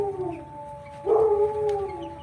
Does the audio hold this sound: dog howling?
yes